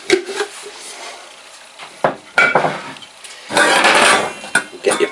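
A cooking pan being handled and set down while preparing rice, with a few loud clanks and scrapes of metal cookware in separate bursts, close by and with no talking.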